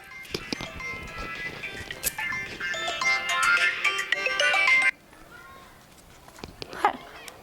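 A phone ringtone plays a bright, repeating melodic tune for several seconds, then cuts off abruptly, followed by quieter background sounds and a voice.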